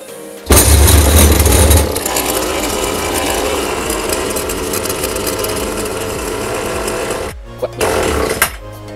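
A brushcutter's small two-stroke engine runs loud and steady with a raspy buzz, revving hard at first, then cuts out abruptly as it runs out of fuel mix; a brief sputter follows before silence.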